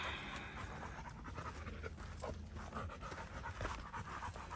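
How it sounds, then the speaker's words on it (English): A dog pants rapidly and steadily on a steep outdoor walk, with quick, close, breathy huffs continuing under faint ambient noise. "You see how she's huffing and puffing, but when I do give her water, she won't drink it."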